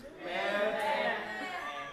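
Several people mimic sheep with a wavering, nasal baa, one sustained bleat-like cry held for about two seconds, close and fairly loud.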